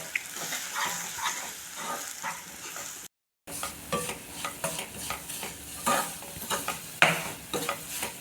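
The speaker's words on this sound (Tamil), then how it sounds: "ஒரு 2 நிமிஷம் போல் வறுத்துக்கலாம்." Semolina and grated coconut dry-roasting in a pan for a Chettinad sweet, stirred steadily with repeated scraping strokes and a soft continuous sizzle, close and even, with one short dropout.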